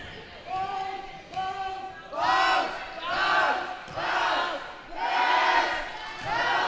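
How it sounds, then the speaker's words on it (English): Fans at a girls' high school basketball game cheer and shout loudly in repeated surging bursts, the crowd swelling and dipping in waves over several seconds. "Both fan bases getting real loud right now."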